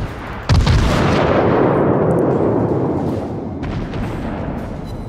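Main battery of the cruiser Cleveland firing in World of Warships: a sharp, heavy salvo blast followed by a long rolling rumble, then a second quieter report near the end.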